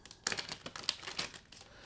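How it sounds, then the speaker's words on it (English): Tarot cards being shuffled by hand, a quick run of soft papery riffles and crinkly flicks, close and fairly quiet, with no talking. "Do one more shuffle."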